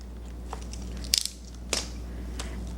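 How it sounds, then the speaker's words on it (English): An X-Acto knife blade cuts through dried glue beside a resin pendant, giving two short, faint crunching scrapes close up against a quiet background. "I'm just going to take my blade very carefully and just cut up next to the pendant"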